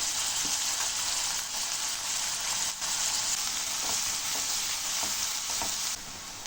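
About ten garlic cloves fry with onion in a pan for drumstick gravy, a dense steady sizzle with occasional stirring clicks, close and continuous, ending slightly quieter.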